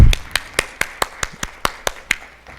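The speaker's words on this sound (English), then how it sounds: "I just want everybody here to give them one more round of applause for making it through this year" A slow, even round of claps for new educators at a university pinning ceremony, about ten single loud hand claps spaced evenly and close by, like one or a few people clapping rather than a full crowd.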